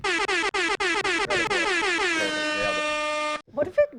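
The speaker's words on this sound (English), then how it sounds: "Air horn." An air horn blasts in a rapid series of short, harsh honks that merge into one long sustained wail before cutting off, followed by a burst of reaction.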